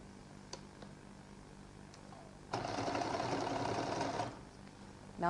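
A sewing machine double-stitches a seam on a lady's jacket, running in one steady, fairly loud burst of about two seconds after a quiet start with a few faint clicks.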